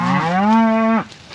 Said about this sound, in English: So this cow here, Jonesy said looked a bit frothy and sounded